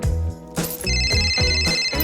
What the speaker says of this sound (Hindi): ओह, मेरा फोन।